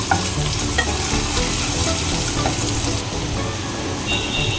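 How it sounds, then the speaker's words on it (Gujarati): Ginger sizzles steadily in a hot pan while being stirred, a constant crackling hiss with occasional scraping. "મેં આદુનો ટુકડો લઈ લીધો છે એને સરસ એવું સાતરી લેવાનું છે આપણે"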